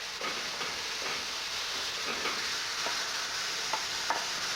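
Mushrooms cook down with a splash of dry sherry in a hot pan, giving a dense, steady sizzle and hiss with faint scattered pops, close and unbroken, with no talking.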